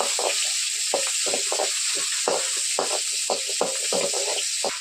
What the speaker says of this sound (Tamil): சின்ன வெங்காயம் போட்டு நல்லா வதக்கிக்கணும்